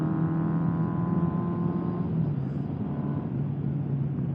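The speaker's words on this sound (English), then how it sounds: "But it handles real nice as I go through these little twisties." A 1979 Honda CB750F Super Sport motorcycle engine hums steadily while riding through twisty roads, a smooth mid-pitched drone with wind rush that dips slightly in tone partway through, no voices.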